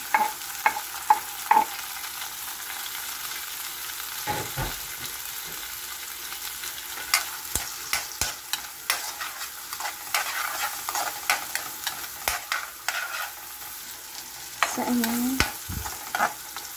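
Onion and garlic frying in oil in a pan, a steady close sizzle punctuated by frequent sharp scrapes and taps of a stirring utensil, with one brief louder hiss near the end, no voices.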